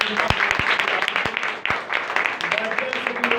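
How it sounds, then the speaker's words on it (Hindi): A church congregation at a Sunday meeting applauds loudly, with sharp individual claps over a continuous wash of clapping while a voice speaks over it. "जोरदार तालियां"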